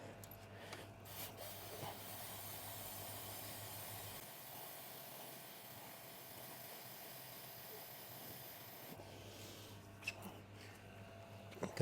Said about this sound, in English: apply your chain cleaner or degreaser. Be very generous when you spray this.